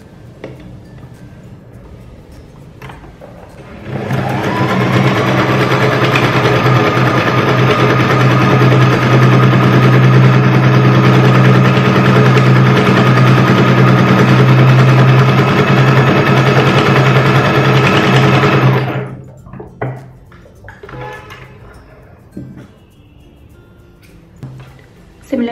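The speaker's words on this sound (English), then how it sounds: "Now I'll overlock it." An overlock sewing machine stitches the crotch seam of silk palazzo pants, running steadily at close range for about fifteen seconds, then stops abruptly, leaving faint handling clicks.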